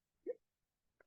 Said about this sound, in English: Apologies, hiccups.